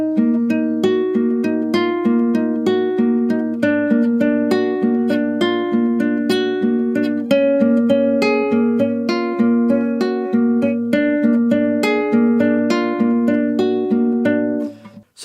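A guitar plays a section of a song from Far Cry 6, steady plucked notes in a flowing, evenly paced melodic line with sustained bass tones, played alone and close.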